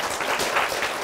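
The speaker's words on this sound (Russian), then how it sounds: "ваши аплодисменты" Audience applause fills a conference hall after a panel discussion on Russian media in cyberspace, a brief, steady wash of many hands clapping at moderate volume with no talk over it.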